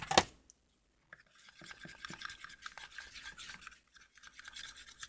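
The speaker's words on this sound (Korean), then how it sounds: "골고루 잘 섞이도록 섞어주세요" Glue slime mixture being stirred by hand, with soft sticky scraping and brushing strokes in an irregular rhythm after a sharp click at the start. The sound is quiet and close.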